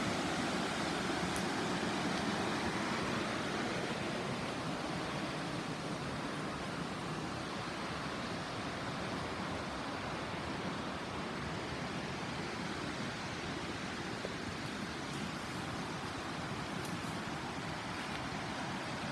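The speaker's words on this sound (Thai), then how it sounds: "นี่น้ำตกแห่งที่2" A waterfall in Xaisomboun province, Laos, pours with a steady, unbroken roar of falling water that holds at an even level throughout, with no voices.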